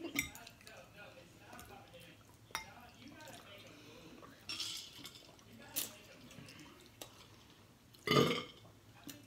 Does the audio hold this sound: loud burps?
yes